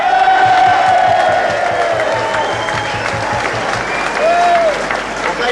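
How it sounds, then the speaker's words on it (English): A large crowd at an Essendon Football Club function applauds loudly and cheers, with whoops rising over the dense clapping, which holds steady throughout and swells again near the end. "What about a big rousing cheer for the president of the Essendon Football Club, Greg Sill?"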